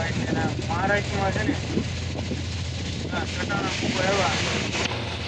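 Steady rushing wind through an open window, a constant roar under a person talking, with vehicle hum beneath.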